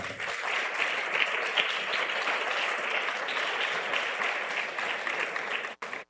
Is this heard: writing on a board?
no